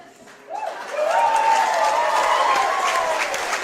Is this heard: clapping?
yes